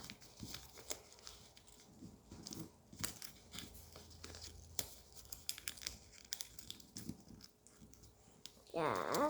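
Paper being folded by hand to make a spinning paper top: soft scattered rustles, creases and taps close by, ending in a louder burst of crinkling.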